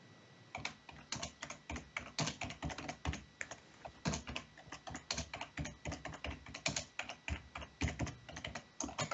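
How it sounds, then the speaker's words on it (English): A computer keyboard is mashed hard and fast in rapid irregular bursts of clacking keys, loud and close, continuing steadily without pause and with no voices. "Who's mashing their keyboard?"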